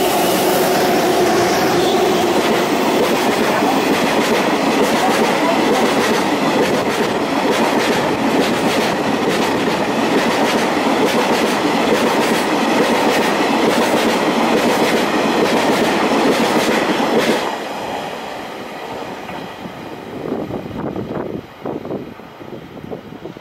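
The Shiki-shima luxury train roars through Murai Station on Japan's Shinonoi Line at close range with rapid rhythmic clatter from the wheels, then fades abruptly into quieter station ambience.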